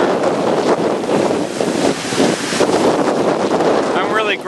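Surf rolling onto Bondi Beach in the Australian summer, a broad steady roar of waves on the open coast, heavily buffeted by wind rumbling across the microphone.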